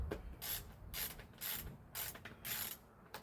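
A ratchet wrench tightens bolts on a Husqvarna HU800AWD mower, making several quick bursts of clicking strokes separated by short pauses. The sound is close and moderately loud, with no voices.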